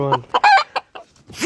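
Rooster crowing aggressively at a rival rooster, a short loud crow with harsh clucking bursts close by, ending in a rising squawk.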